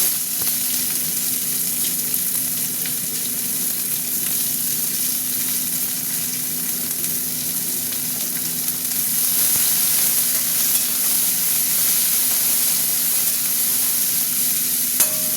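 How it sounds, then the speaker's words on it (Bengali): Dried red chillies, bay leaf and onion fry in hot oil, giving a steady close sizzle that hisses on evenly with no talk. "আর দুটো শুকনো লঙ্কা দিলাম। এটা গরম হোক, এবার আমি পেঁয়াজ দেব।"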